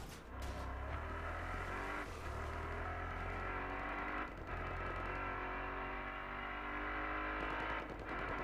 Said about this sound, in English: Starting this cop car.